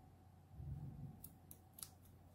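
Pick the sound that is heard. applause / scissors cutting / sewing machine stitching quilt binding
scissors cutting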